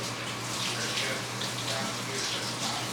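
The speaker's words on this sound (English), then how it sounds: "Let me wash my hands" Running tap water pours steadily over hands being washed at a kitchen sink, a close continuous rushing flow without pause.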